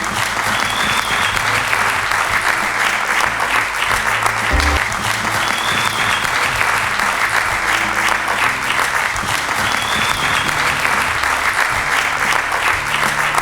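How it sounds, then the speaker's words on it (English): An audience applauds loudly and steadily as a guest is welcomed onto the stage at a song launch, dense clapping sustained for over thirteen seconds with a brief dip near the middle. "Big round of applause, ladies and gentlemen."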